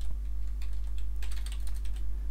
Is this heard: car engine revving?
no